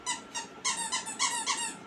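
A squeaky toy dog gives about six quick, high squeaks in an uneven rhythm, close and fairly soft, with no talking over it.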